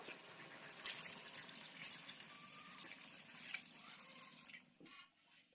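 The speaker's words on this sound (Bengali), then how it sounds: "এখন আমি এতে জল দিয়ে দেবো" Water poured from a tap or jug into browned, sautéed chicken pieces in a pot for chicken biryani, a steady splashing trickle with scattered drips that runs for several seconds and then thins out near the end.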